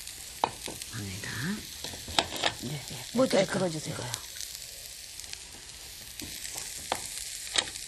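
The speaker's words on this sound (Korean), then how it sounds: "볶고 있는 프라이팬에다가 네. 채소를 넣으시는군요" Vegetables such as zucchini stirred and frying in a hot pan for lotus root and spinach stir-fry temple food, a steady soft sizzle with scraping stirs under Korean conversation.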